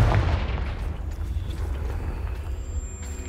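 The Confringo fire spell in Hogwarts Legacy erupts in a heavy booming blast, a deep rumbling roar that is loudest at the start and then fades into a lingering low rumble.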